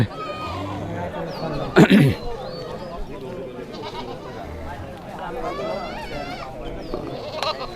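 Goats bleat among the crowd at a traditional rural village market in Benupur at evening, their calls rising now and then over steady nearby chatter and voices, with one sharp loud burst early on.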